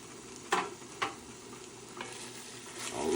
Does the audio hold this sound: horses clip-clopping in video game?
no